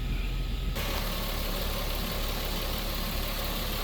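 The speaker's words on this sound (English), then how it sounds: "I'm just making it idle a little bit longer to warm up" A Toyota Soarer SC300 with a naturally aspirated 2JZ-GE engine being tuned for turbo idles steadily and loudly after a quieter first moment, a continuous close-up rumble with no voices.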